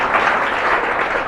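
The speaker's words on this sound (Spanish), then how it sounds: "Denle un fuerte aplauso al Señor." Dense, loud applause from a church congregation clapping for the Lord, an even wash of many hands with no pauses.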